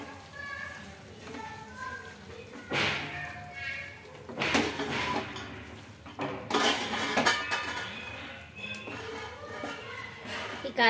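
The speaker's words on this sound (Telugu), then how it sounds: "ఈ కారం అంతా ముక్కలకి పట్టేలా కలుపుకోవాలండి బాగా" Chili powder and tomato being stirred into chicken curry pieces in a pan, with repeated metallic scraping and clinking of a spoon against the pan in bursts, while someone talks over it.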